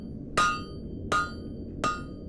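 Three loud, evenly spaced hammer blows ring out as a blacksmith flattens and points the end of a metal bar, each strike sharp with a bright metallic ring over a low background hum.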